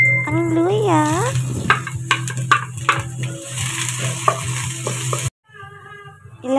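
Garlic and ginger sautéing in hot oil for steamed pampano, a steady sizzle with stirring scrapes while someone talks over it.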